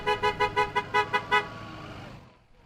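School bus horns honk in a tribute convoy through Oakville and Burlington, with about eight loud, rhythmic toots in quick succession, followed by a fading rumble of passing buses.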